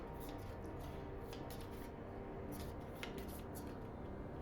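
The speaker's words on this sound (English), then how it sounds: "Shuffle them and place them in a pile face up." Global condition cards for the ISS Vanguard board game are shuffled by hand, producing a run of crisp, rapid riffling and flicking bursts, close and fairly quiet, with no talk.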